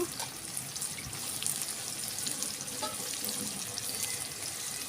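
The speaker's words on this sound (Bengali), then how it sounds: "মিক্সিটা একটু ধুয়ে নেব" Tap water running steadily while a mixer grinder jar is rinsed in a kitchen, a continuous close splashing hiss with faint clinks, no talking.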